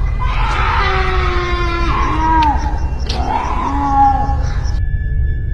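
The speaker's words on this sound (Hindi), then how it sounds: "तभी उस हॉस्पिटल के अंदर से किसी की चीखने की आवाज सुनाई देने लगती है।" Screams echo from inside a hospital in a horror story, drawn-out wailing cries rising and falling over a steady low rumble, loud and continuous with no talking.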